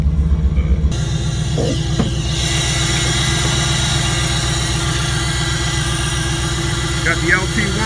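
A Camaro/Firebird LT1 V8 cranks briefly, then catches and settles into a loud, even, throbbing idle that runs on steadily, with someone speaking over it.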